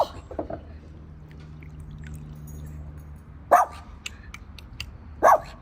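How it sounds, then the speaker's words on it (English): A dog barks sharply twice, a couple of seconds apart, over a low steady background hum. "this one's just barking for no reason"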